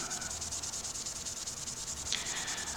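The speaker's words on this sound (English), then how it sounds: "when you're sanding plastics at those grits, you're essentially polishing them." Steady, rapid back-and-forth scratchy rubbing of fine-grit sandpaper on hard plastic of a pipe being restored, close and fairly quiet, continuing without pause.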